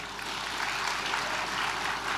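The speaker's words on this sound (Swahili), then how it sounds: "Tuwapigie makofi sana" A crowd at an official ceremony at the State House in Zanzibar applauds successful students with even, sustained clapping, moderately distant and somewhat subdued.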